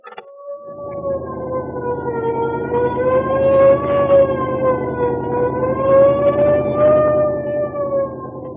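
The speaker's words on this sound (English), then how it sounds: "Cut the siren" A loud wailing siren rises and falls steadily, sustained and close, with no voices.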